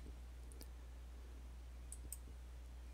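A computer mouse gives a few sharp, quiet clicks, one pair early and a couple more near the end, set against a low steady hum in an otherwise quiet room.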